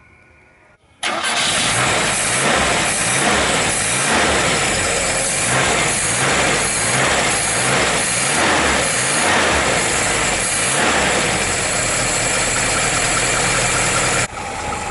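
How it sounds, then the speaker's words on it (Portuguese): A 1981–82 Chevrolet Chevette Marajó engine fires up with a freshly installed carburetor and runs cold, a loud, close, steady idle with a rhythmic pulsing throb that holds until it cuts off near the end. "O objetivo agora é esperar o motor esquentar um pouquinho"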